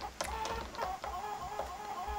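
Chickens cluck from The Sims Bustin' Out on the Game Boy Advance, short chirpy bursts repeating over steady game music, moderately loud and without talk.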